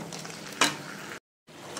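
A spoon stirs dudh shukto curry with papaya, bitter gourd and fried lentil dumplings in a kadai, a steady sizzling scrape with one brief louder stroke, then a short silence before the stirring resumes.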